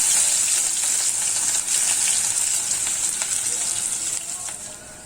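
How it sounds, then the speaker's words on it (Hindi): One medium onion, finely chopped, hisses and sizzles steadily in hot oil in a pan as mince for lasagna begins, a loud, bright, continuous frying sound that eases slightly toward the end. "तेल मैंने गरम कर लिया है। इसमें डालेंगे 1 मीडियम साइज प्याज बारीक कटी हुई।"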